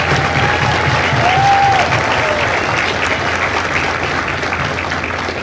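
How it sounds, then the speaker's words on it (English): A large audience claps for families at a Marine Corps recruit graduation ceremony in San Diego, with steady sustained applause filling an outdoor space, loud at first and then easing slightly, with faint voices beneath. "would you join me in a round of applause for the families of Fatal Fox?"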